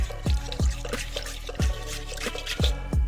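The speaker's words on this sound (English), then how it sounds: "So now that the yeast is added, you want to give it just a little stir." A spoon stirs yeast into warm water and honey in a bowl for pizza dough, producing close, rhythmic liquid swishes and drips about every half second, with no talk.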